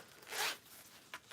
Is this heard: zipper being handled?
yes